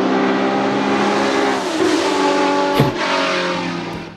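A Porsche 911 GT3 engine in the Gran Turismo racing game roars loudly and steadily with a sustained harmonic drone, shifting pitch midway, with a brief sharp knock near the end and no talk over it.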